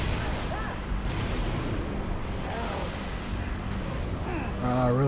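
Gunfire and explosive blasts from a Halo: Reach firefight form a dense, continuous roar of shots and booms, with a voice briefly speaking near the end.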